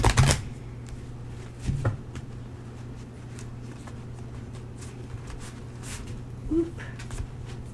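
Tarot cards are shuffled close by in a run of soft riffling and patting sounds, loudest at the start and fading into light rustles, with a low steady hum underneath.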